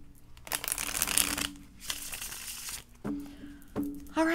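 Tarot cards being shuffled in quick riffling bursts, close and fairly quiet, with short pauses between shuffles.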